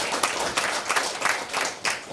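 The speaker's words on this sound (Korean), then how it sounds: "박수 한번 해주실까" A church gathering's audience claps together in a brief burst of applause, dense and continuous, heard from within the room.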